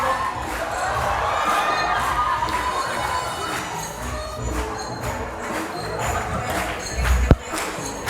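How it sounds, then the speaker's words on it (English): Lively indoor crowd of children and adults cheering and shouting for a dancer performing Michael Jackson routines, a continuous moderate roar with a sharp thump near the end. "Yeah, make some noise for Michael."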